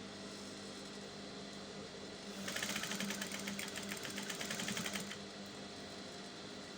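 A sewing machine stitches a blouse facing, one short burst of rapid, even needle chatter in the middle, close and fairly loud over a quiet room hum.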